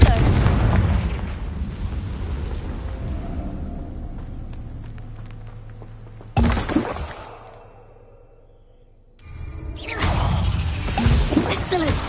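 Confringo spell blasts in the video game Hogwarts Legacy: loud, close booming bursts. A long blast opens and slowly fades, then two more sharp blasts follow after a brief near-silence.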